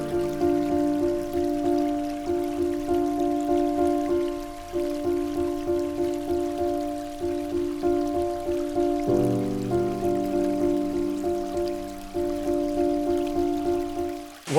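Waterfall beside a log, a steady rushing wash of falling water heard close and continuous, with a tonal drone layered over it and no talking.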